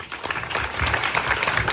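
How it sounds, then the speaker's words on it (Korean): A dense, steady wash of applause from a large audience at a high school graduation ceremony, filling the whole moment with continuous, even clapping at fairly close range. "다시 한번 박수 부탁드리겠습니다"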